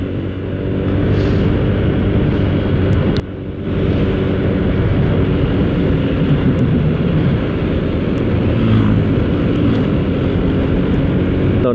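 A motorcycle rides along a busy main road and overtakes traffic, a loud steady engine drone mixed with heavy wind rush, with a brief dip in level a few seconds in.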